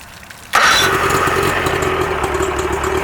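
A Mercury 50hp outboard on a SunTracker pontoon boat cranks and catches abruptly, then settles into a steady, loud, close idle with no one talking.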